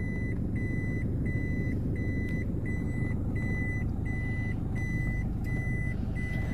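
Repeated reversing beeps from a car backing up during a driving lesson in Korat, Thailand, a steady evenly spaced series of short electronic tones over a constant low engine and road rumble, with no talking.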